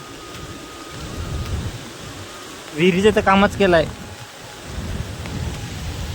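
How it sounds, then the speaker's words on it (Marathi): Light monsoon rain falls outdoors along a road near a flooded river, a steady soft hiss throughout, with someone talking briefly in the middle. "आज पण रस्त्याला पाऊस आहे थोडा थोडा थोडा कमी झाला आहे"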